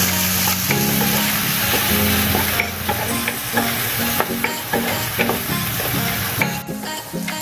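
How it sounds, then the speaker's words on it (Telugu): Spring onion, onion and peas frying in a pan for sausage fried rice, a loud close sizzle broken by repeated sharp spatula clanks and stirring scrapes. "ఫ్రై అయిన తర్వాత నేను బట్టని కూడా వేసుకుని ఫ్రై చేస్తున్నాను"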